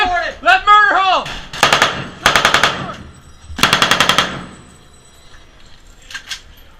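Several bursts of machine gun fire crack out in rapid rhythm, close and loud, separated by brief pauses during a squad firefight, with shouted voices mixed in.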